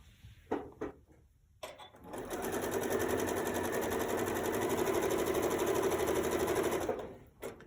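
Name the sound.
sewing machine sewing a quilt seam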